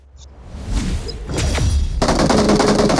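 Gunfire in the mobile battle royale game PUBG Mobile, a burst of loud thudding shots building into a rapid, dense automatic volley that continues to the end, close and harsh.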